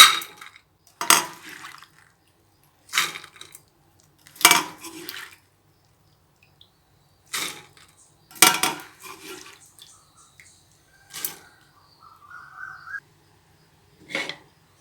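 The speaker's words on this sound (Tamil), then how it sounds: "ஊற வச்ச எல்லா தட்டைப்பயிரும் குக்கரில் போட்டேன்" Soaked cowpeas tipped into a pressure cooker, with a series of separate clattering, pouring knocks against metal, several spaced bursts over the span, close and fairly clear with quiet gaps between.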